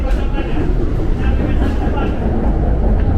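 A KRL commuter train heading toward Manggarai, heard from inside as a loud, steady low rumble and rolling drone with light rattles, with voices talking over it.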